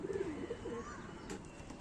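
A pigeon coos softly nearby, a few low throaty calls near the start with a faint chirp later, and no voices.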